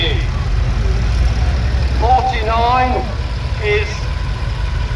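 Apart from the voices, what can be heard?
tractor engine running during a tractor parade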